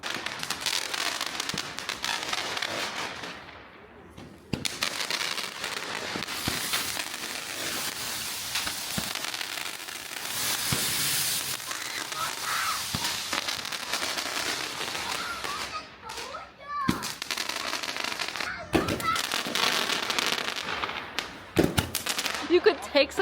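Fireworks going off at night in a small Chinese city, a long run of crackling bursts and sharp bangs, some close and loud, with crowd noise and people talking underneath.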